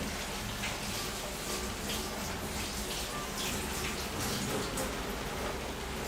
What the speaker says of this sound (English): Can you hear the rain a lot?